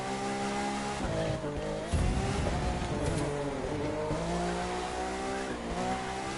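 Hypercar engine in The Crew 2 racing game, high revs dropping under braking into consecutive downhill hairpin turns, with tire squeal and skidding; a loud, steady engine drone rises and falls through the turns.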